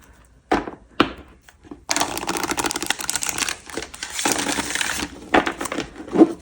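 Tarot cards shuffled by hand nearby: a couple of sharp taps, then long stretches of dense, crackling riffle and rustle with brief pauses and a final flurry of bright snaps, no talking.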